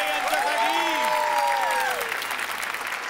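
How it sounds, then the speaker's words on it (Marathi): Dense, steady applause from a studio audience at a Marathi comedy show greeting the team of Nanda Saukhya Bhare, with music swelling underneath and the crowd noise continuing throughout. "जोरदार टाळ्या टीम नांदा सौख्य भरे यांच्यासाठी."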